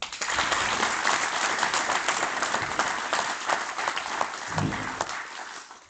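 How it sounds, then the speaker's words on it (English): A crowd at a district council inauguration gives a dense, sustained round of applause for newly elected councillors that stays steady for several seconds, with a brief murmur toward the end. "Please give them another clap."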